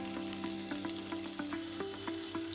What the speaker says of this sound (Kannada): ಈರುಳ್ಳಿ ಹಾಕ್ಕೊಳ್ತಾ ಇದ್ದೀನಿ.